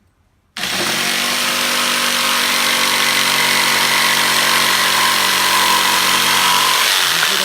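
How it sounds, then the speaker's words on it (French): A power saw cuts wooden planks to build a mountain bike ramp, bursting on abruptly after a brief silence and then running at a loud, steady, continuous whine with no pauses. "Il faudra aussi couper 2 planches de 60 cm."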